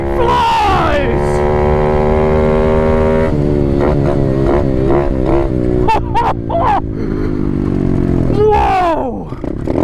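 Apollo 125 RFZ Chinese dirt bike accelerating hard, the engine whine climbing through the gears in rising sweeps, close and loud, with brief shouting from the rider over the motor.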